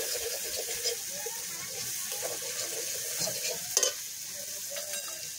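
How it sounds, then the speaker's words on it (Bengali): Ground spices, including coriander powder, sizzle steadily in a pan after a splash of water while cooking a home-style mutton curry, with faint stirring scrapes and a few sharp clinks. "মশলাটা তলায় যেন লেগে না যায় সেই জন্য আমি একটু জলের ছিটা দিয়ে নিচ্ছি।"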